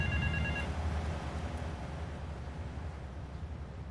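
A payphone ringing in the video game Grand Theft Auto III: a short electronic ring at the start, then fading into a steady low hum of game ambience.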